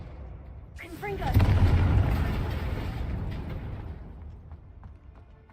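A Confringo fire spell blasting in Hogwarts Legacy bursts with a loud boom after a brief whoosh, then a long rumbling decay fading over several seconds, with a voice heard briefly before the blast.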